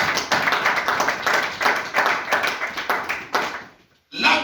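A church congregation claps together in a fast, even rhythm, a close and loud steady beat of many hands that stops abruptly before a final burst.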